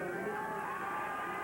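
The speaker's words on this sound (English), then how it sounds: "you can hear the crowd cheering" Spectators at a horse driving marathon obstacle cheer and whoop in a continuous, fairly distant roar of many voices, steady in level throughout.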